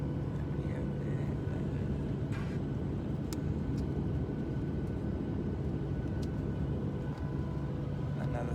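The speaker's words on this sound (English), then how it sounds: "We're on our plane, just on the runway, ready for takeoff." Steady low rumble and hum fill an airplane cabin on the runway before takeoff, with broad engine and air noise continuing evenly throughout and a few faint clicks and knocks on top.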